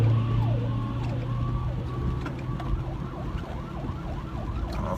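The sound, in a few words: fire engine siren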